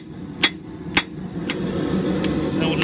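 A hammer strikes a Viking axe billet forged from scrap while shaping the bevels: three loud, evenly spaced ringing blows, then a fainter fourth, over a steady roar of background noise.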